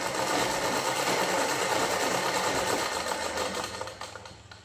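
A sewing machine stitches fabric in a fast, continuous whirring run, loud and close, then slows and fades out near the end.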